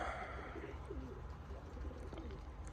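Young pigeons coo softly from a balcony loft, a few low, quiet throaty coos over a faint steady background hum.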